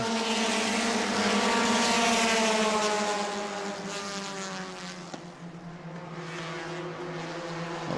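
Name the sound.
race cars racing at New Smyrna, Bomber class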